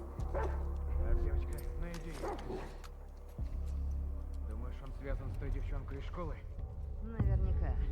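Dogs bark and yip repeatedly in The Last of Us Part II, with a steady low rumble underneath and a voice talking over parts of the barking.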